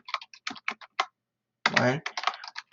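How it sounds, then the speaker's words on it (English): Fingers type a search query on a computer keyboard. Rapid, close, crisp key taps come in two quick bursts separated by a brief pause, with no talking over them. "I'm going to type in lingering disputes from World War I"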